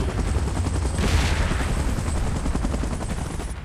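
Helicopter in the PUBG Mobile Godzilla and Kong vs Mechagodzilla game mode. A loud, continuous pulsing rotor thump with a harsh rattling texture that lasts throughout.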